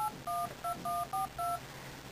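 An iPhone 3G keypad sounds a quick run of six dialing tones, short beeps in uneven rhythm with brief gaps, fairly quiet with no voices.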